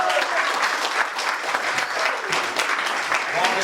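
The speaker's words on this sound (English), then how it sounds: "Everybody give a round of applause to Marcus Coleman" Dense, sustained audience applause at a community event, loud and continuous throughout with crowd noise mixed in.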